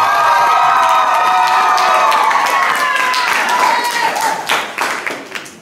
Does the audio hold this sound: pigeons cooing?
no